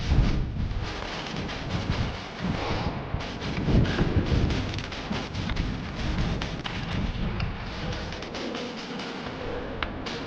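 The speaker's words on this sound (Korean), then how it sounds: "아 바람 많이 분다" Strong wind buffeting a microphone during a road bike climb up a steep 30% hill, a loud continuous rumble with gusty swells and no pauses.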